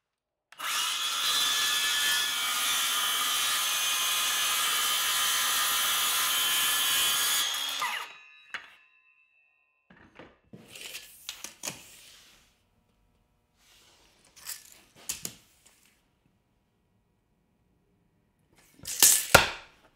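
A circular saw guided along a clamped straight-cut jig rips through plywood in one loud, steady cut lasting about eight seconds, then winds down, followed by a few faint knocks and handling sounds in the quiet shop.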